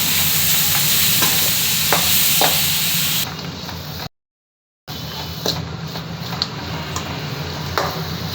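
Chopped tomatoes sizzle and fry in a hot pan for sabakki kichdi, with a steady loud crackle broken by stirring scrapes and a brief gap before the frying resumes.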